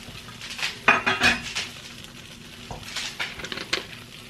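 Garlic sautés in a pan for acini di pepe pasta as a metal utensil scrapes and clinks against the cookware in quick bursts over a light sizzle.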